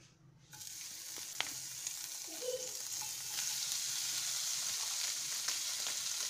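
Long-cut paneer pieces frying in a pan, a steady sizzle that swells after a quiet start and gets gradually louder, with occasional light clicks of stirring and no voices.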